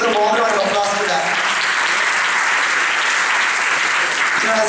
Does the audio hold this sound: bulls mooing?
no